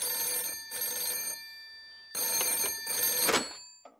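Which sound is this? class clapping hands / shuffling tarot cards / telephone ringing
telephone ringing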